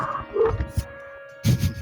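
Dogs bark and whine in a short, loud burst of yips that ends in a louder bark near the end.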